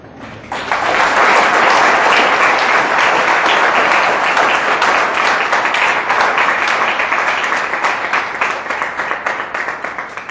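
A church congregation at a Christian gathering breaks into loud, sustained applause, a dense wash of clapping that holds steady for several seconds before gradually thinning out.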